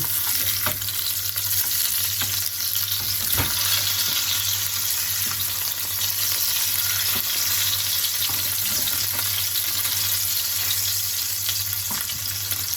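Salmon burgers sizzling and frying in a pan, a steady crackling hiss that runs unbroken, with a few sharper clicks and pops scattered through it.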